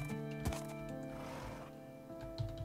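A horse in the Minecraft video game, heard as a brief whinny and short snorting bursts over tonal game background music, soft and close.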